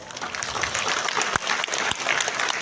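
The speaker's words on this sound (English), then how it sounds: "let us give our warmest applause to the graduates" A crowd at a graduation ceremony gives the graduates loud, dense applause, a continuous wash of clapping from many hands with a couple of thumps, filling the whole stretch.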